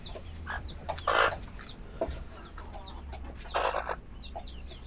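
Native-breed chicks clucking and peeping faintly, scattered short calls over a steady low hum.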